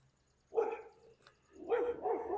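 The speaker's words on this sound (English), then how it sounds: "some dog that's going to come out barking every morning" A dog in a small Maine town barks twice, two short, clear woofs separated by a pause, moderately distant and alone without talk.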